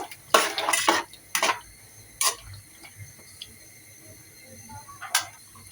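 Taro pieces dusted with turmeric powder are stirred in a cooking pot, with a few loud scraping clanks of a spoon against the metal and quieter gaps between strokes.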